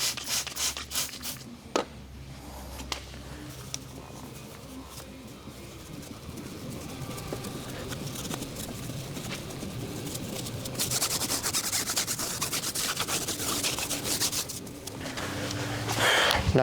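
A brush scrubbing WABAM cleaner into car wheels and tires, producing steady rubbing and rasping strokes that grow louder and denser toward the end, with no talk.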